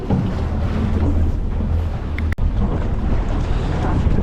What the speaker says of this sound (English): Righto, the wind's picked up a bit,